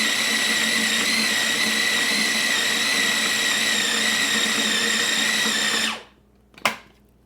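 A blender pulsing shrimp paste: a loud, steady motor whine runs for about six seconds, then cuts off abruptly, followed by one short, sharp burst of the motor.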